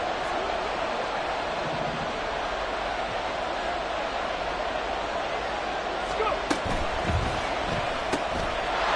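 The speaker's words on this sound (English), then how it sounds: "this crowd gets out making some noise" A football stadium crowd roars during a Buccaneers versus Falcons game, producing a steady, dense wall of noise with a few sharp knocks near the end.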